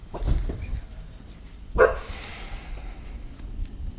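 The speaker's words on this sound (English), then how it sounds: "Got the watchdog." A dog gives a single bark near the middle, short and moderately loud against a low background rumble.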